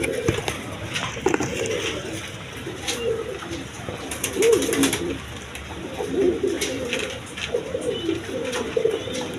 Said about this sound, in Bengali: দেখেন কবুতরটা দেখার মতো কবুতর